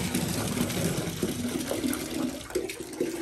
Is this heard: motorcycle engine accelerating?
no